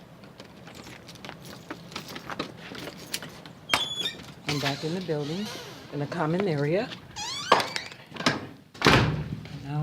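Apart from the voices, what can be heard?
door unlocked with a key, opened and shut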